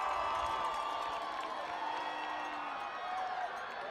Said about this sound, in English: the visiting fans trying to cheer on their defense